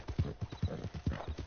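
Horse hooves clip-clop in Red Dead Redemption 2, a fast, steady rhythmic beat of close, muffled thuds at a gallop.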